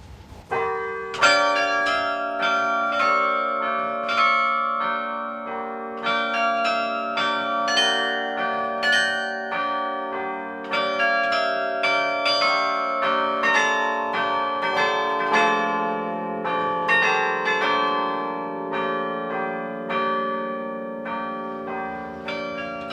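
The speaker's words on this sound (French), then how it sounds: "Son carillon, composé de 62 cloches, rythme la vie des Douaisiens." The 62-bell carillon of Douai, France rings out in a rich, continuous cascade of overlapping tones, steady and full throughout with no voices.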